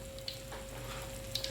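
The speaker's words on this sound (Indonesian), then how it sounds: "Jadi kalau goreng tahu, saya cenderung pakai apinya sedang ke besar, jadi tahunya cepat mengapung." Tofu frying in hot oil over medium-high heat gives a steady, close crackling sizzle with a few sharper pops, with no talking.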